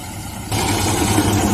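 A farm tractor's engine kicks in after half a second of quiet, then idles loudly and steadily with a low, even rumble and vibration to the end.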